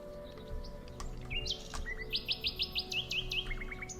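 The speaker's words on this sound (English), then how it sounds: "Oh, I hear you, bird." Bird chirping in the Viking settlement-building game Land of the Vikings, a run of quick, bright repeated tweets over a steady low ambient hum, fairly close and clear with no talk.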